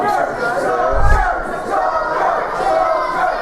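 A wrestling crowd at a PWU show roars and shouts together in a loud, sustained swell, with a deep thump partway through the noise.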